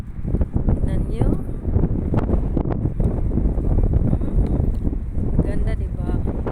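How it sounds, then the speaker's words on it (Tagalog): Strong wind gusts outdoors at a mosque in Al Oula, Amman, Jordan, a loud, constant roar of buffeting against the microphone, with people talking through it. "Wow, mahangin. Yan. Ang hangin."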